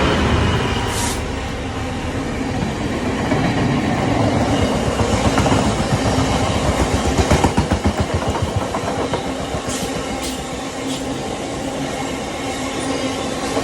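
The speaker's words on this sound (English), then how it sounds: "Oh, I love these trains." A long train rolls steadily past at close range, loud wheel clatter and rumble running unbroken through the whole stretch, with faint squeals of the wheels on the rails and rushing wind.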